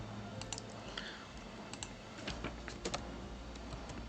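A computer mouse clicks in ArcGIS Pro, sharp scattered taps at an uneven pace, faint and close over quiet room tone.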